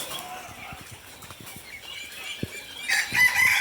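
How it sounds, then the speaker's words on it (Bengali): Farm roosters and poultry cluck and crow nearby, short scattered calls, with a louder crowing burst near the end over faint background noise. "আর এই যে খামারের মোরগগুলো বের হয়েছে"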